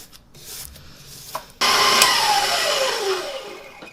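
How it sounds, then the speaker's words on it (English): Spatula scraping down the sides of a mixing bowl of cookie dough with sugar, a steady loud rasping scrape starting partway through and continuing to the end after a softer lead-in. "we're going to scrape down the sides just to make sure that all the sugar gets incorporated"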